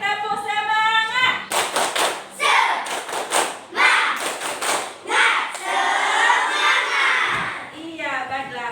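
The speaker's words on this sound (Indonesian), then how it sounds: "Oke, tepuk semangat." Schoolchildren clap a rhythmic group spirit chant in a classroom, bursts of sharp claps in patterned rhythm with brief pauses, a teacher's voice and children's voices sounding between the clapping.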